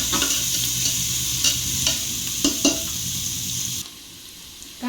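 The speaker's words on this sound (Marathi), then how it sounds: "व्यवस्थित कांदे परतून घ्यायचे आपल्याला" Finely chopped onions sizzle steadily while being sautéed and stirred in a pan for spicy chicken masala, with a constant hiss and a few stirring scrapes before the frying noise drops off near the end.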